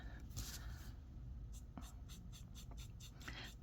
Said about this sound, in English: Guess we should swatch out one of these water brush pens.